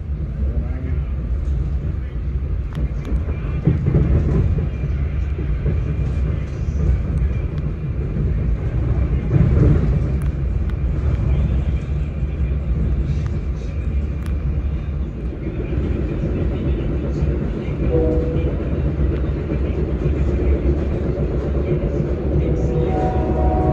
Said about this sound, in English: The train then departed Big Timber right on time, heading southwest back to Union Station.